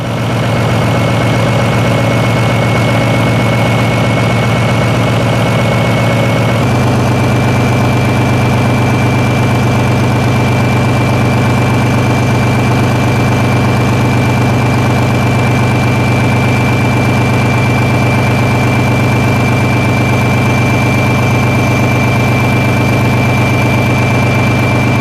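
A massive old heavy-duty engine built for trains, ships and generators, rated around 1,200 horsepower at 1,500 RPM, runs with a loud, steady low drone and a whining tone, its pitch shifting slightly once early on.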